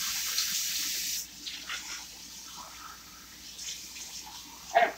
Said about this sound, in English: I'll rinse that.